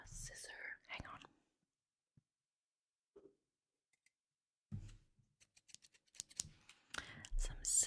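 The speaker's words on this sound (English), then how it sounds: "Some scissor noises." Scissors snip and crinkle plastic packaging up close, soft scattered clicks and cuts in a quiet room, with whispering before and after.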